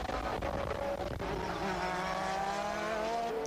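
Formula 1 cars from the 1988 season roar past at racing speed as Senna overtakes Gerhard Berger's Ferrari, a continuous loud engine wail with rising pitch and faint tyre noise.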